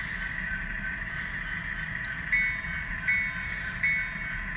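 Sound from a model train locomotive's Digitrax-controlled decoder: a steady, fairly quiet engine drone with a sustained tonal hum, plus three brief soft chuffs or clicks about a second apart, with no talking.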